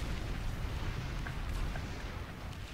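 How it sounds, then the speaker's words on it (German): Low, rumbling blasts and muffled booms from the video game Planetside 2 roll on steadily, faint and distant, with no voices over them. "Ich sehe nur Explosionen."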